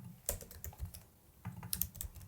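Irregular clicks of typing on a computer keyboard, close but quiet, in two short bursts of keystrokes separated by a brief pause, with no talking.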